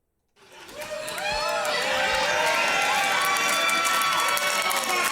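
A live crowd at an NWA wrestling event erupts and builds into sustained cheering, whistling and shouting that stays loud and full to the end.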